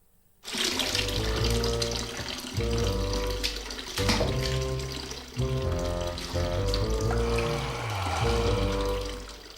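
Hot water gushing from a tap in a gas advert, a loud continuous splashing flow under music, starting abruptly and running for about nine seconds.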